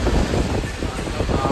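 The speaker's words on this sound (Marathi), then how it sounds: "आवाज सुपर पाऊस आहे बघा." Heavy rain pounding on a car during a drive around Sangamner, heard from inside the cabin as a dense, steady roar and hiss that never lets up.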